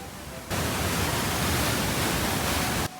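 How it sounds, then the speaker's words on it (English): A loud waterfall pours down inside a mountain at Lauterbrunnen, a steady, dense roar of falling water that starts abruptly and fills the space before cutting off near the end, with no voices. "It was amazing how much water was pouring down the inside of this mountain."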